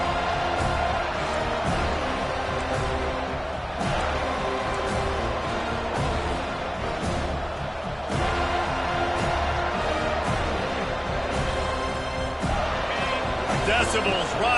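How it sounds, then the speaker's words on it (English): Football stadium crowd roaring steadily behind the defense on third down, a dense sustained wall of cheering with sharper bursts and shouts, loud and continuous throughout, with an announcer's voice running over it. "Decibels rising as the crowd gets behind this defense on third down."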